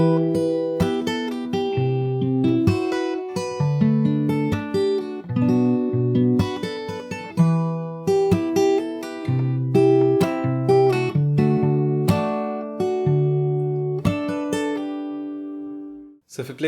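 A close, clean acoustic guitar picks a fingerstyle arrangement of a song, a slightly varied section with sustained bass notes beneath plucked melody, played solo and ending in a quick decay.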